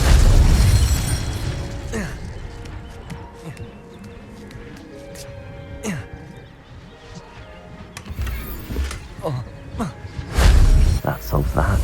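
Incendio fire spell bursting into flame in the Hogwarts Legacy video game: loud booming blasts at the start and twice near the end, with a rumbling game soundscape and voices between them.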